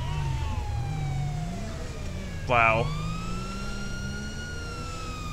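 A wailing emergency vehicle siren from an ambulance in GTA V with the LSPD First Response mod, sweeping steadily through the whole stretch, with a brief exclamation from a player partway through.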